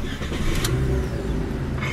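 Car engine idling and then revving upward in a close, continuous, rough drone that fills the whole moment, with no talking over it.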